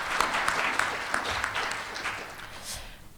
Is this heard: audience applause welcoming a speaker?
yes